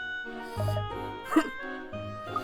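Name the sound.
dog barking in a video game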